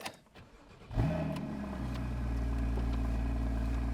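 A Porsche 981 Cayman S with a 3.4-litre engine and manual gearbox cranks and fires about a second in, flaring loudly before settling into a steady, deep, grunty idle, close by with no talk.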